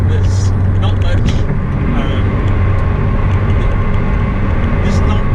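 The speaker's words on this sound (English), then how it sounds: "We're getting a lot of road noise coming up from the tyres" Road and tyre noise roars inside a 2020 McLaren 600LT sports car with minimal insulation, a loud, continuous low drone of engine and tyres on tarmac with no break.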